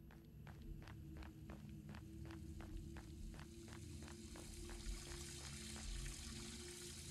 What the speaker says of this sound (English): Are you the water pipe that's broken?